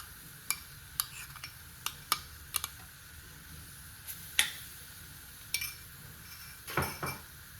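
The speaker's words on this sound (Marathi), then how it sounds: "तो आपल्याला छान परतून घ्यायचा आहे।" Grated coconut being stirred and roasted in a pan while making ukdiche modak, with a series of sharp spoon-on-pan clinks and scrapes spaced irregularly over a quiet background, close and fairly soft, with no talking.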